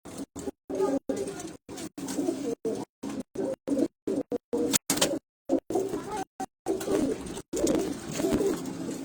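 Pigeons coo in low, repeated throaty calls, fairly close and clear, broken up by short gaps of silence.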